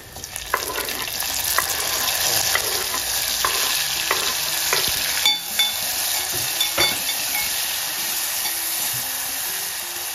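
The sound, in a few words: tomatoes frying with chilli and curry leaves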